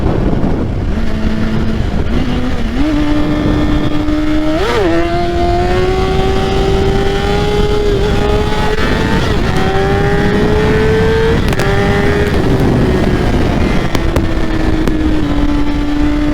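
A BMW S1000RR sportbike engine held at high revs through a wheelie, its loud steady tone climbing gradually with a brief blip midway, close and continuous with no talk.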